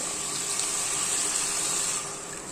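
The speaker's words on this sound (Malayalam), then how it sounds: "വേകുന്നതിനാവശ്യമായിട്ടുള്ള വെള്ളം ഒഴിച്ചു കൊടുക്കാം" Water is poured into a pan of crab roast as it cooks, giving a steady, fairly loud gushing splash that runs for about two seconds and then eases slightly, with no talking.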